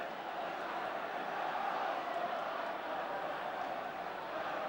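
Dense crowd roar from Arsenal supporters at a football match against Newcastle United, steady and loud throughout with no break, a broad wash of cheering voices after a goal.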